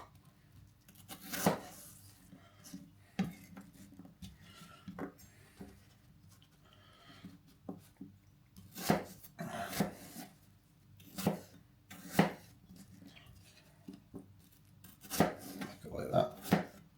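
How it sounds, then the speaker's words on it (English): Knife chops vegetables into rough chunks for mulligatawny soup, landing as irregular sharp thuds on a board, some single and some in quick clusters, close by with quiet gaps and light kitchen background between them. "Random chop chop."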